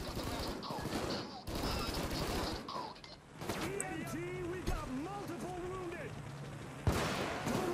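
Bursts of gunfire from the PayDay 2 video game, including sniper shots, crack in clustered volleys and then sharper single reports, with players talking over the shooting.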